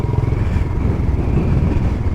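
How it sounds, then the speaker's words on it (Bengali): A Royal Enfield Bullet Classic 350 motorcycle revving during a race on a bridge, a loud, steady low engine drone with throbbing exhaust pulses, close and continuous, with no talking. "আমার সঙ্গে রেস করছে, থ্রটলের পাওয়ার দেখাচ্ছে।"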